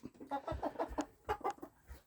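A hen sits in a nesting box making soft, close, irregular clucks in short bursts, fairly quiet.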